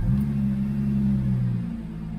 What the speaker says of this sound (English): Then you can start the car.